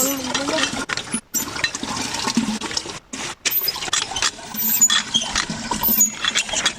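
Water gushes hard from a Jet Matic hand water pump, a rough, steady splashing with a few clanks, while a person talks nearby.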